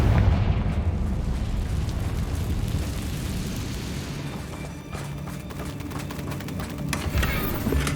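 Spell explosions from Confringo bursting in Hogwarts Legacy gameplay, a steady loud rumbling roar with repeated blasts and crackling bursts layered over continuous battle noise throughout.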